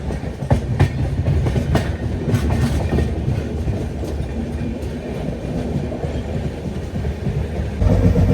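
An Anakapalle–Secunderabad special fare express train runs on its rails in India, heard from inside the coach as a steady rumble with repeated clickety-clack wheel beats, near and continuous, with no talking.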